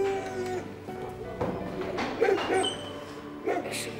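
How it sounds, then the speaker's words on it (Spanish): Dogs bark in short, scattered bursts at moderate distance, with sharp yelps and a few whimpering tones rising over a quiet indoor background, several barks clustered in the second half. "¿Pero qué pasa que los perros ladran así?"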